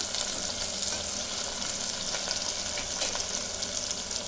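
Chicken frying with onion in a pan, a steady close sizzle that fills the whole stretch without a break, with faint scraping of stirring underneath.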